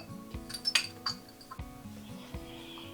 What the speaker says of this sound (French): Je vais mélanger ma vinaigrette